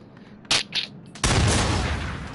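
In the Until Dawn video game a shotgun fires: a couple of sharp, loud blasts, then a heavy, booming shot that rumbles on and decays, close and with no speech.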